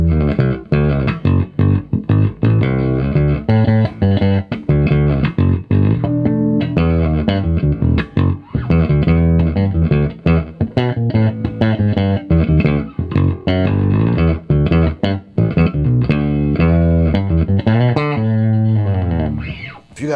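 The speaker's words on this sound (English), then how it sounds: "I'm gonna play with just that bridge pickup." Fender Custom Shop Dale Wilson Masterbuilt '70s Jazz Bass played on its bridge pickup alone, a steady stream of punchy, bright plucked notes running continuously and close.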